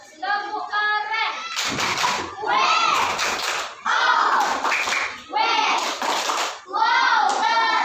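Classroom children perform the 'tepuk keren' clapping chant, chanting together in loud bursts punctuated by rhythmic hand claps, with short pauses between rounds.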